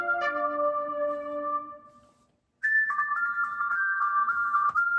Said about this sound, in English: That's my piccolo flute.